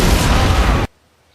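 Loud, dense blast from a tank being blown up in the World War II game The Saboteur, a single sustained roar that cuts off abruptly into near silence.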